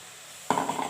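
Tomatoes with salt hit a hot pan and start sautéing for a broccoli gravy, a sudden burst of sizzling and stirring that breaks out halfway through after near-quiet.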